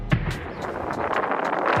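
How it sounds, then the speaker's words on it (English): Explosions erupt across Puerto Vallarta during a military operation against a cartel, heard as repeated sharp booms and bangs over a dense, rumbling roar that continues throughout. "Explosions erupting across Puerto Vallarta tonight."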